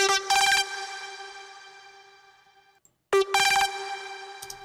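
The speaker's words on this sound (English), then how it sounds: "So it's kind of like another plucky sound." A plucky distorted synth from the Logic Pro X ES2, in a dubstep style, strikes two bright, buzzy chords that each ring out and slowly fade, separated by a short silence, with no voice.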